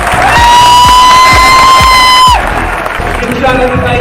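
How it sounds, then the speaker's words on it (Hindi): A seminar audience in Udaipur cheers and whoops loudly as rhythmic clapping and a thumping beat run under a sustained tone, then the crowd noise drops and thins out partway through. "एक बार उदयपुर के लिए और अपने आप के लिए जोरदार तालियां बजाएं।"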